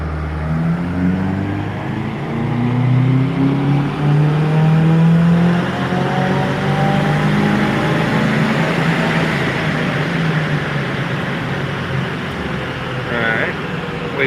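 A car fitted with a Cobb intercooler makes a logged full-throttle pull, its engine rising in pitch through the revs as a loud, close, continuous roar.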